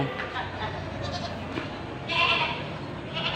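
Goats, some with large horns, bleating amid a busy livestock market, a few calls rising above steady crowd murmur and background chatter, with a louder bleat near the end.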